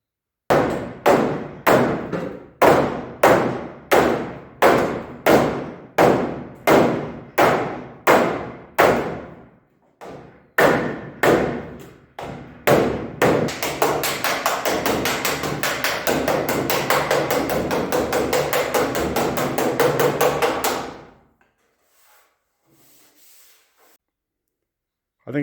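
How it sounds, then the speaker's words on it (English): Hammer blows knocking dents out of the sheet metal front edge of a Bronco hardtop, about a dozen evenly spaced close metallic thuds, then a short pause, a few more strikes, and a rapid continuous stretch of blows before silence. "little dents and body imperfections across this front edge that I'm going to try and get knocked out"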